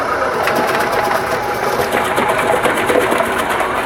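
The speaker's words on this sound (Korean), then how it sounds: "아, 이게 양파 가는 기계예요?" An onion grinding machine in a delivery restaurant kitchen runs continuously with a fast, rapid mechanical chatter and steady whir, loud and close.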